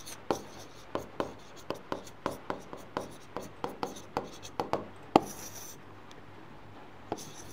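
Pen writing on paper during a class 8 maths lesson, with a steady series of short scratchy strokes close up. The strokes come in a regular rhythm, then pause near the end, with faint background noise.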